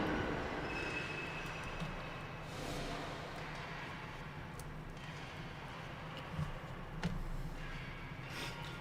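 Locomotive No.71515 shunting coal wagons at Maerdy Colliery in a train simulator, a steady low rumble of rolling rail wagons with faint wheel squeals and a couple of clanks near the end, with no voices.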